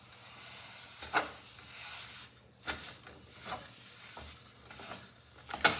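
Jimmy Dean sage-flavored sausage sizzles in a pan while being broken up, a steady soft hiss with intermittent scraping and stirring clatters from the utensil.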